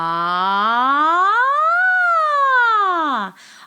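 A single sustained vocal tone glides smoothly upward and back down in one breath, imitating a siren, loud and close, cut off abruptly near the end.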